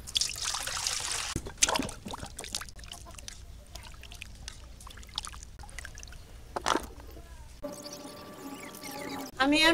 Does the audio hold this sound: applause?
no